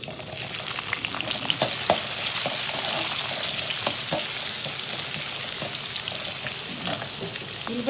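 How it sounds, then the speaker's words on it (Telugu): Onion pieces sizzle loudly in a tempering pan with dried chillies and curry leaves, a dense continuous frying hiss broken by small crackles and pops, close up, with no voices. "ఉల్లిపాయ ముక్కలు యాగాలి చేస్తా"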